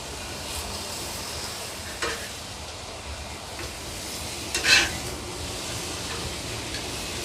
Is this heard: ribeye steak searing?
yes